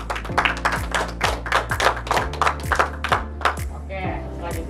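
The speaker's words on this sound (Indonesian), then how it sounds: "Tepuk tangan lagi dong." A small group clapping hands on a podcast set, sharp, uneven claps in a loose rhythm, close and fairly loud, with faint musical tones underneath.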